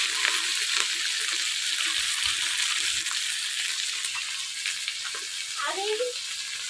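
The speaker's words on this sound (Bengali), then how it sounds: "লঙ্কা দিলাম" Chillies and onion frying in hot oil for Bengali double-dal khichuri give a steady, loud sizzle with brief stirring scrapes, and a faint voice sits underneath now and then.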